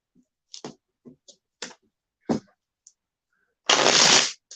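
Tarot cards being handled and shuffled up close: several sharp snaps and flicks, then a longer riffling burst of cards near the end.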